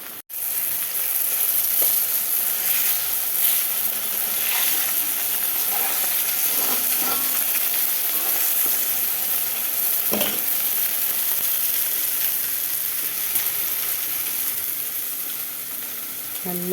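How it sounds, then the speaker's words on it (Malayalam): Curry pieces fry in hot oil with curry leaves, a steady loud sizzle broken by scraping stirs and the clatter of a spoon against the pan, continuing close and without pause throughout. "കറിവേപ്പില ഇട്ടാണ് മുരിച്ചെടുത്തത്"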